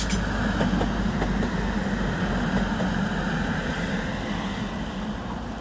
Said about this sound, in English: Transfer Express about to stop here at Durham.